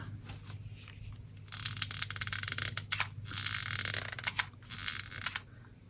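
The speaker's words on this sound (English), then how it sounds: "Squeaky hot glue gun." A squeaky hot glue gun works at close range during a lace streamer craft, giving repeated ratcheting creaks and scraping clicks in short bursts that grow louder midway, with no talking.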